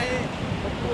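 Wind blows steadily at the seaside, where kites are flying near the docks on a sunny day, making a continuous broadband rush close to the microphone for about a second.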